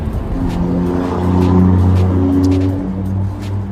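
Heavy traffic on a busy Philadelphia road, with cars and engines droning and rising as they pass close by in a continuous stream, without talk.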